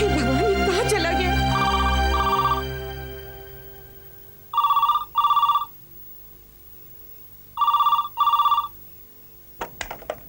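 A telephone rings in a Hindi TV drama scene, two double-pulse electronic rings sounding loud and clear indoors after a swell of background music, with a short clatter at the end.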